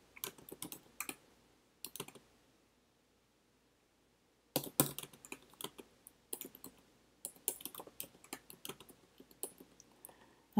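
Computer keyboard typing in quick bursts of clicks, with a pause of a couple of seconds midway, then denser clatter; close and clear, no speech.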